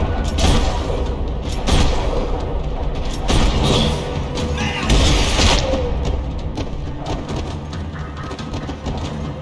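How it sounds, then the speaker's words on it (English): Gunfire rattles through a parking lot shootout in the video game Max Payne 3: dense bursts, heavy booms and thuds repeat without pause across nine seconds in a loud, cluttered mix. "Another parking lot rattling with gunfire."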